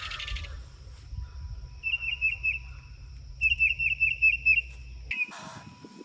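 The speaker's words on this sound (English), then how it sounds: "There's a bird in here that got a nest, and she's a little upset that I'm up in here trimming up around her nest." A nesting bird in tomato plants gives repeated sharp, alarmed chirping calls in two close, rhythmic bursts, loud and near, over low rustling and handling noise from trimming the plants.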